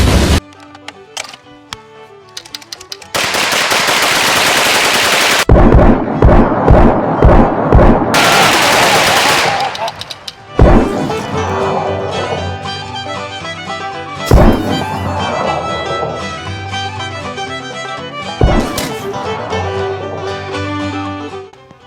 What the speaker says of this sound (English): A Gatling gun chambered in 9mm is very fun